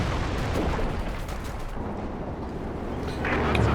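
A major artillery barrage pounds the ground in Company of Heroes 2, a continuous, dense rumble of overlapping blasts that swells slightly toward the end.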